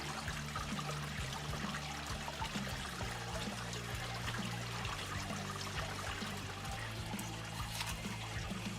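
Water runs steadily through a sluice as it is cleaned, a constant trickling and pouring flow with faint irregular splashes and no voices.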